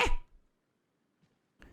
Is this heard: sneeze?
yes